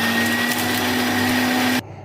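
A mixer grinder runs loud and steady, dry-crushing roasted spices for kappa biryani without water, a constant motor whine that cuts off abruptly near the end.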